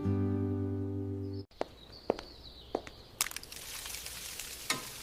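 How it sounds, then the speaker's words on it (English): An egg frying in a pan, a hissing sizzle that builds after a tone cuts off, with a few sharp clicks and taps of cooking scattered through it. "I cook an egg"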